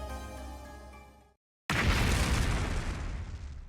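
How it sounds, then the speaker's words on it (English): A sudden loud explosion in The Hundred Line: Last Defense Academy game bursts out after a brief silence, a broad roaring blast that slowly decays, following a fading musical tone. "an explosion suddenly echoed across the room"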